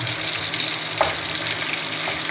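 Ginger frying in a hot pan for a Filipino anchovy soup, a steady dense sizzle with a couple of faint utensil scrapes, close and continuous, no voices.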